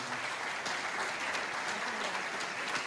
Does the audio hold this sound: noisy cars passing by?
no